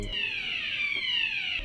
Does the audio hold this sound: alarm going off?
yes